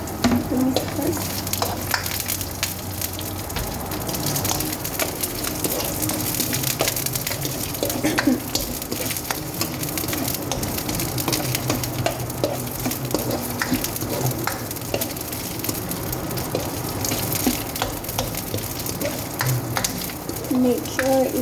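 Garlic, ginger and onion sizzle and fry in a pan while being stirred, a steady crackling hiss broken by scraping stirs and occasional clinks, close and moderately loud.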